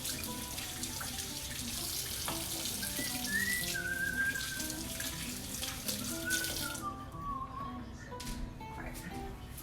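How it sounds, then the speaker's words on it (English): Hands being washed under a running kitchen tap while cooking pasta and eggplant, a steady rushing splash of water with faint whistling tones, fairly quiet and continuous, then easing near the end. "Let me wash my hands because my hands are really greasy."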